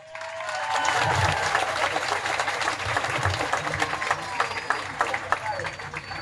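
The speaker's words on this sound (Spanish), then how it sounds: "fuerte aplauso" Warm applause from the crowd at a Partido ASI council candidate list presentation in El Zulia, a thick, continuous clapping wash with crowd voices mixed in beneath it.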